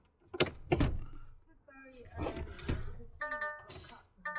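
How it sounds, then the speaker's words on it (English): Button clicks and soft mechanical thunks as a truck's steering wheel position is adjusted in a DAF cab, with a few close knocks, a brief whirring adjustment and electronic chime tones near the end. "Let's adjust this steering wheel if I could find the button."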